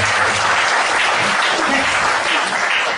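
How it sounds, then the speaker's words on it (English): A crowd at a product demonstration gives steady, warm applause, a dense wash of clapping that holds evenly for about three seconds with no break. "can you please give a warm applause?"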